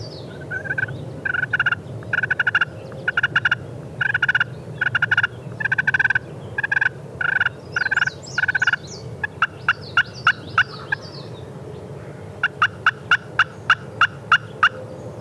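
A wild turkey gobbles and yelps repeatedly during a turkey hunt. Its rhythmic, clucking call series is fairly close and comes in bursts over a low outdoor background.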